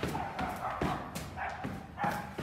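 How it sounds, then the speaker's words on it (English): Dogs fighting outside an abandoned building, with repeated bursts of barking and yipping at a moderate distance, faint and slightly muffled. "There's a dog fight out there"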